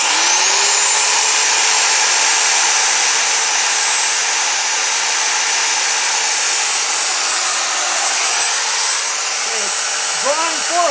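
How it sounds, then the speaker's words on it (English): A 10 amp Porter-Cable router runs on power from an old gas generator, giving a loud, steady high-pitched whine that holds throughout, with a faint voice near the end. "let's see if that will power this 10 amp porta-cable router"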